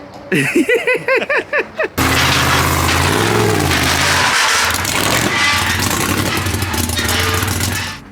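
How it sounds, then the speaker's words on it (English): A voice barks a few times, then a Texas Speed engine in a VW Bug trophy truck roars up on a dyno, holding a loud, rough, sustained rev that drops away only at the end. "we're gonna make this Texas Speed engine bark"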